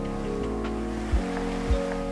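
Sea waves wash steadily onto a sandy beach in a video game, a continuous surf roar with a low engine-like hum beneath and two soft thuds, with no voices.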